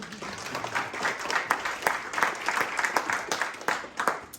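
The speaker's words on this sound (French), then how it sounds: "je crois qu'on peut l'applaudir" An audience applauds at a talk on trust in agile teams, steady dense clapping from a mid-sized crowd throughout, with faint voices underneath.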